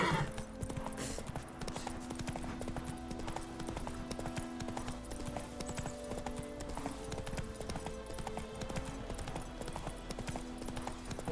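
Hooves of Roach, a horse in The Witcher 3, clip-clop in a steady walking rhythm under faint game ambience and music, fairly quiet throughout.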